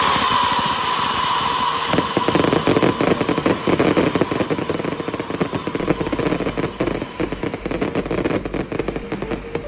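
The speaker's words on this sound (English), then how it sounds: "Howling fireworks." Fireworks display with dense, continuous crackling and rushing bursts, loud and sustained throughout with rapid irregular pops layered over a steady noisy roar.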